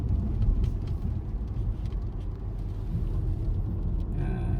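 The engine of a car with an ABS warning light and a loss of power, sputtering slightly as the accelerator is pressed hard, gives a steady, close, low rumble with little change in pitch.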